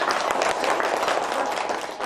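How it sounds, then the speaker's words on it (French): Applause from a gathered audience, a continuous wash of clapping that holds evenly loud for a couple of seconds. "Je crois qu'on peut vous applaudir."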